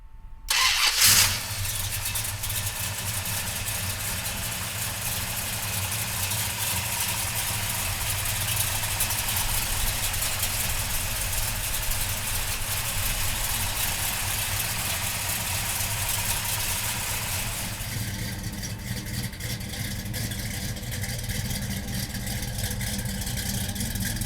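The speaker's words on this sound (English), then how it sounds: "So come on up and let's fire this 440 up." A Plymouth Roadrunner's 440 V8 cranks and catches with a sharp burst, then settles into a steady, loud, rumbling idle that runs on alone for over twenty seconds.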